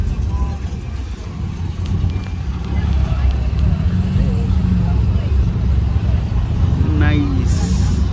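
A clean Honda CRX drives past, its engine and road rumble blending into steady loud background traffic noise, with people talking nearby.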